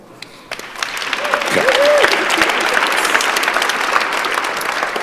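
Audience applause swells from a sparse start into dense, steady clapping that continues throughout, with a brief voice sounding faintly beneath it.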